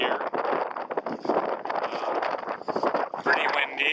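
Gusty wind buffets the microphone during a practice sail on a small sailboat ahead of the Everglades Challenge, a loud rough rumble with choppy surges throughout.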